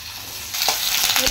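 Potatoes frying in hot oil in a wok: a loud, steady close-up sizzle that swells midway, with light stirring clatter near the end and no voices.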